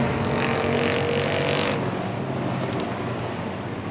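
Pro 4 race trucks roar around Punta Gorda Speedway, a loud continuous engine drone as the pack presses through a corner, one truck riding the rear bumper of another, with the sound easing slightly as they pass.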